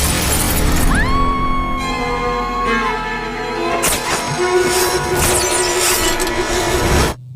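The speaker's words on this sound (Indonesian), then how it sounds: "Korra terjatuh dari atas gedung setelah atap yang dipijaknya retak dan hancur" A building roof cracking and shattering in an animated series: loud glass-like smashing and crashing debris bursts out several times over a swelling dramatic score with sustained tones.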